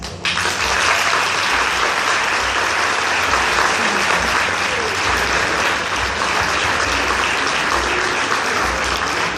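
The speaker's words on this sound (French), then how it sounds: "les gens qui sont en bas vous applaudiront de toute leur force." An audience at a hypnosis show in Bayonne claps loudly and steadily, a dense, sustained burst of applause from a crowd with almost no voices over it.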